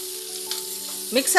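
Chicken manchurian seasoned with black pepper sizzles in a hot pan as it is stirred, a short close burst of frying with a brief scrape of the utensil near the end.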